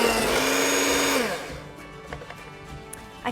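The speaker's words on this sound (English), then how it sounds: "I'm just going to beat the ingredients together with an electric whisk until they're really nice and" An electric whisk whirs loudly as it beats cake batter for a Victoria sandwich, then winds down and stops, leaving faint clinks and a quiet room.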